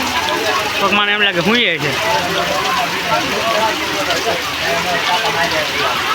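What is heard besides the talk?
heavy rain falling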